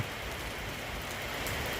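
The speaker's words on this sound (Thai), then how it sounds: "ฝนตกห้ามก่อน" Rain falls steadily in a garden, a dense, even hiss of drops pattering on surfaces with no voices or other sounds over it.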